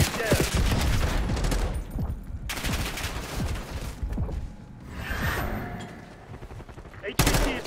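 Rapid gunfire bursts in Call of Duty Black Ops 6 multiplayer, dense overlapping automatic fire and whooshes in loud stretches broken by short quieter gaps, with game voice lines faintly under it.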